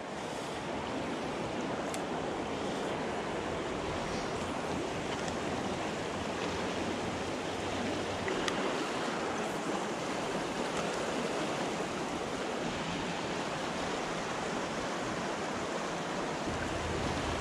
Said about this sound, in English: Water is so high, so fast, raging.